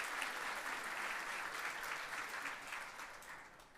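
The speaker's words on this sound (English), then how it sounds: "let's give a round of applause to these young leaders and their families" Audience at a community awards ceremony honoring young leaders and their families keeps up a steady, even round of applause, the dense clapping easing slightly toward the end.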